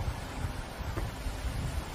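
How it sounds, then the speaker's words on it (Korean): Wind blows outdoors on a clear morning in a parking area behind a workplace, a steady low rumble buffeting the microphone for two seconds with no one speaking. "바람 소리 들리시죠?"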